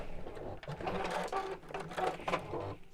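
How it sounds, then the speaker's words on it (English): A sewing machine stitches down both sides of a quilted fabric drawstring bag, close-up, its rapid mechanical whirr starting and stopping in short runs. "sew down both sides."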